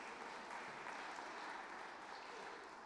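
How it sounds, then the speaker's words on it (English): A church audience claps in a brief, even round of applause during a lively game segment, a dense steady patter of many hands heard from a short distance. "Round of applause."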